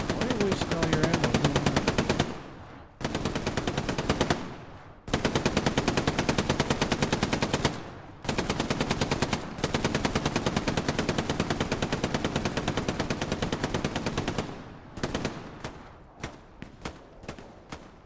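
Sustained machine-gun bursts from the World War II shooter Hell Let Loose, long rapid automatic strings broken by brief pauses, then shorter spaced bursts near the end, loud and close with no talk over it.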